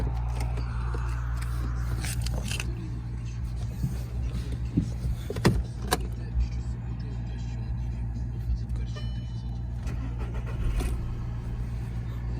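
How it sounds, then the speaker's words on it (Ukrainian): A Skoda Octavia A5 1.8 petrol engine turns over, starting quickly, and settles into a steady, low idle rumble, with a few clicks and clunks nearby and a voice talking over it. "Гарно заводиться з півоборота."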